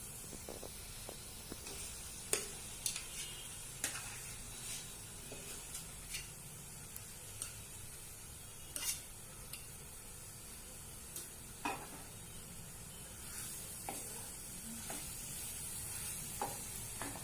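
Boiled potatoes for vada pav go into a hot pan with oil and spices, making a faint, steady sizzling hiss with scattered light stirring clicks and scrapes, with no talking.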